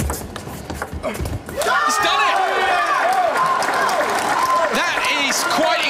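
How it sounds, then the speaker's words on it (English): A table tennis crowd at the WTT Finals in Doha bursts into loud, sustained applause and cheering after a rally, with a commentator's voice audible beneath the clapping. "To their feet here to applaud that effort from Quadri Aruna, the Nigerian."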